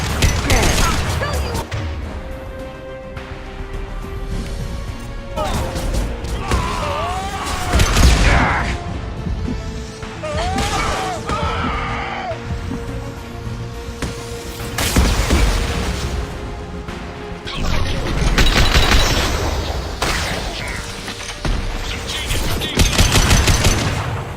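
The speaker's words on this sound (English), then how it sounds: "Get to cover. Taking fire." Gunfire in a video game battle, with dense machine-gun bursts, booms and crashes sounding almost continuously, loud and close throughout, layered with game audio and squad callouts.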